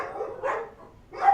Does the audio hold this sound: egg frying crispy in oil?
no